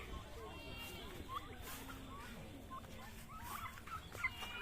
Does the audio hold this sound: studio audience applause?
no